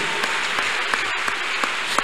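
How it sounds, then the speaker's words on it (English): A church congregation clapping hands in praise, with sharp, fairly regular claps over a steady background of crowd noise and no clear talk. "Clap your chosen, hands"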